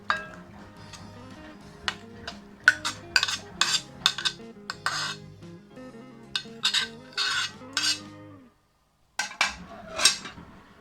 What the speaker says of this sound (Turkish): onları iyice yoğurdumuza yedirelim bunu bir karıştıralım